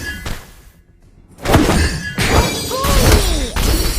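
A turret collapsing in the Mobile Legends: Bang Bang mobile game, with a loud crashing, shattering burst followed by rumbling debris and swooping effects, after a quieter stretch of game sound.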